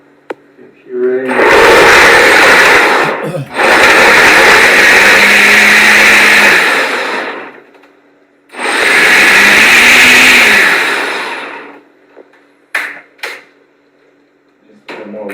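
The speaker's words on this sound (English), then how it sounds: "it's enough water to blend it, and you need sort of a powerful blender" A powerful 1200-watt-plus blender purees wild lettuce with water in two long, loud whirring runs separated by a brief pause, motor straining and settling, with a few short clatters afterward.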